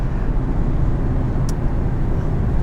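Inside a 2021 Infiniti Q50S Red Sport, the engine pulls hard under acceleration, producing a loud, steady low drone mixed with road and cabin noise.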